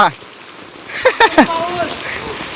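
Unseasonal downpour falls through a green net over soaked wedding canopies, a steady wash of rain noise under a few short bursts of shouting voices.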